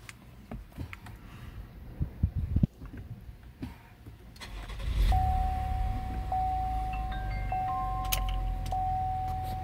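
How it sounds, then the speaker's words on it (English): A Cadillac XT5 engine cranks and catches about halfway through, after some quiet handling and clicks inside the car, then settles into a steady, loud idle with a faint electronic chime tone. The car has a thermostat-related fault and a slightly rough idle. "let me start the car."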